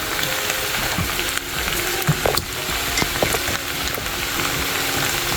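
Garlic and onion powder fry in a hot pan for a shrimp and vegetable lo mein, a dense, steady sizzle close up with a few light stirring clicks and scrapes throughout.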